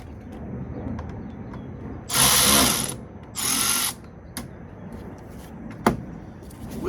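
Two loud bursts of rapid ratchet clicking loosen the 5/16 snorkel clamps on a 2004 Chevrolet Tahoe. Between them come quieter rustling and a few sharp knocks.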